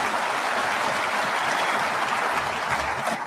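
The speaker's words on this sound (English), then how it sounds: "I think you can clap for that." Audience applause after a speech about skilled trades investment, a steady dense wash of clapping that holds evenly throughout and thins slightly at the end.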